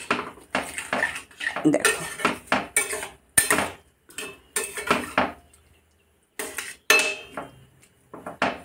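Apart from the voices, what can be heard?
fried potatoes poured into curry in a pan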